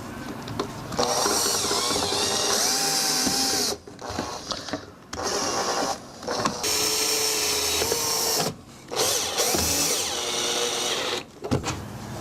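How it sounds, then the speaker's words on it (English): A power drill drives pocket hole screws into a wooden bedside table frame, a loud whirring run repeated in several bursts with short pauses between each screw, its pitch shifting as each screw pulls tight. "Now we're going to start putting the screws in, the pocket hole screws in, to pull the last bit of the frame together."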